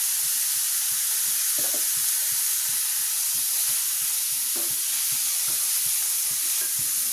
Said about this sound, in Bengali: আমি ডালটাকে একটু ভুনে নিচ্ছি।